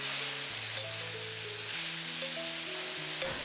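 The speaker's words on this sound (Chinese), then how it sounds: "锅烧热之后加入1大勺食用油，放入切好的蒜片爆香，然后倒入土豆丝，" Potato shreds stir-fried with sliced garlic in a hot wok with a spoonful of oil, giving a steady, close sizzle and hiss under a soft music bed, with faint spatula scrapes and no talking.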